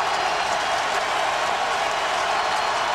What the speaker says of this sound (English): Now the crowd is back in this one.